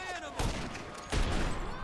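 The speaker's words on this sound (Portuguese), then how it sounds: "E ele tá usando aquela sniper, que é tiro rápido" Two heavy sniper rifle shots fired in GTA Online, each a sharp loud crack with a booming tail, spaced about three-quarters of a second apart over game ambience.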